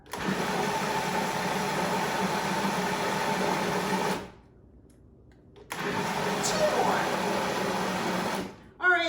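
A kitchen blender pulses tomatoes and other ingredients: a loud, steady motor whir runs for about four seconds, stops briefly, then whirs again and cuts off.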